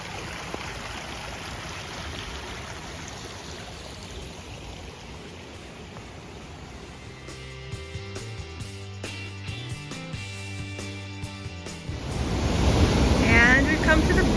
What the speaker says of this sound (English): It is no joke, rushing water.